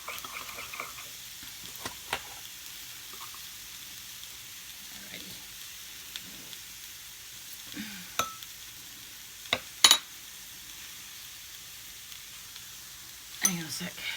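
Food tossed with vegan furikake is stirred in a pan for a plant-based breakfast, with a soft, steady sizzle and occasional sharp utensil clinks against the pan.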